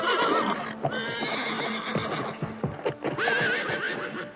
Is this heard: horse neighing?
yes